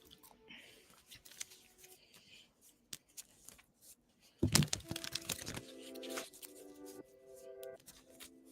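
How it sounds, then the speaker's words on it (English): Tarot cards being shuffled by hand at a live tarot reading, soft papery riffles and taps near the microphone, with a louder burst of shuffling midway, faint sounds around it. "Let me shuffle for you, Jazz."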